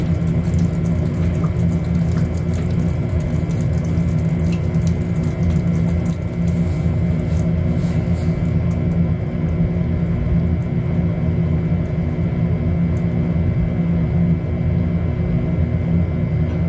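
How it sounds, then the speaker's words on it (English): A Maytag MVWP575GW commercial grade top-load washer runs its final spin cycle, a loud steady droning hum with a low rumble and constant whine that holds evenly throughout, close and alone. "Our final spin here."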